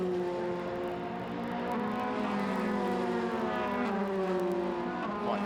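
Formula 3 race cars at Brands Hatch swing through Surtees corner. The engines make a continuous high whine that holds loud and steady throughout, with layered engine tones shifting slightly as the cars pass, and no voices.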